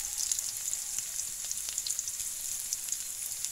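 Onions fry in a pan, giving a steady, bright, crackling sizzle with small popping spatters throughout, close and continuous with no talk.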